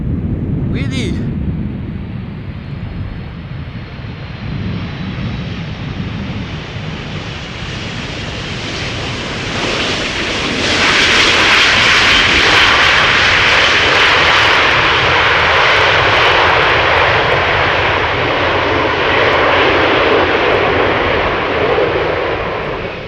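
An airliner lands at Schiphol Airport, its engine roar building as it comes close and loud, then swelling into a broad rushing noise that stays up after touchdown.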